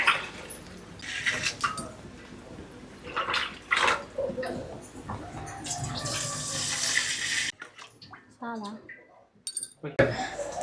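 Tamarind juice poured from a container into a frying pan of fried fish for a fish curry, making a steady splashing, trickling rush, with clinks and a voice talking over it before it cuts off.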